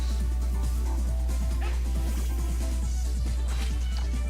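Blake the dog whimpers and yips in short, repeated bursts while begging at the dinner table, with a steady low hum running underneath.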